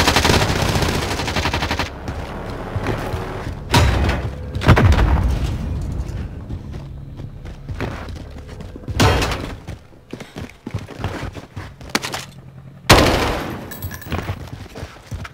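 Submachine gun fire in Call of Duty Warzone on Rebirth Island, several loud bursts of rapid shots separated by short pauses, with sharp impacts and echoing tails between volleys.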